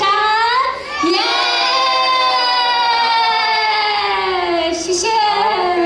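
A large crowd at an anime convention concert in Taoyuan cheers and shouts loudly. A strong, sustained voice rises over the crowd noise the whole time.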